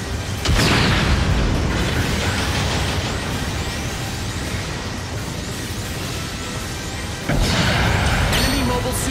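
Dense, continuous booming blasts from mobile suit destructions in the mecha battle game GBO2, with a GM Cannon Space Assault Type fighting; heavy rumbling fills the whole span, with sharp bursts at the start and near the end.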